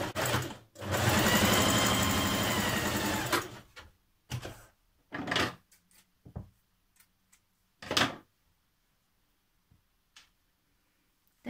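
A sewing machine stitches down a sleeve band seam at the notched edge of a New Look 6574 dress, one steady loud run of about three seconds, then scattered handling knocks and clicks as the fabric is moved.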